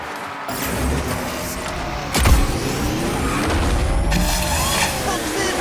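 Boxmobile, the hero vehicle in Destruction AllStars, runs with a loud, steady engine drone, a heavy thump near the midpoint and a rising rev toward the end.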